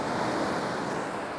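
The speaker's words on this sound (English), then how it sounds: "the water's sort of rushing in between these rocks" Ocean water rushes in between coastal rocks at sunrise, a dense, continuous roar of surf and wash with a faint rumble of wind, steady and close with no voices.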